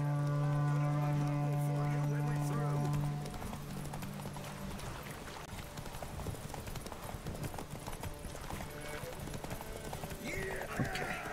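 Roach the horse racing in The Witcher 3, with quick rhythmic hoofbeats running steadily under game music and a held tone at the start, while a person talks over the galloping.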